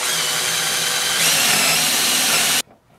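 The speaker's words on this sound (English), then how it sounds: "we're going to come to the top of our wall and we're going to drill right in" A power drill boring a hole into the top of a wall to run wire, a loud steady whine that runs for about two and a half seconds and then cuts off abruptly.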